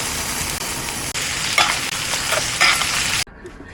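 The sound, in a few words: steak frying in a pan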